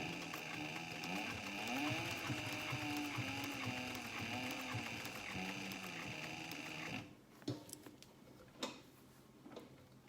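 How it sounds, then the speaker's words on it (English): Sewing machine stitching around a tote bag: a steady, close mechanical whir with a fast rhythmic tick for about seven seconds, then stopping, followed by a few scattered clicks and handling knocks. "I'm gonna start with my needle down, hold my tail, and then just sew around here"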